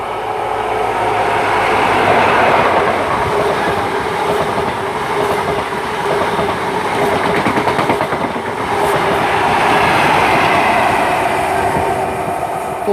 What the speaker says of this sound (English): passing through now, we've got a Swansea to London Paddington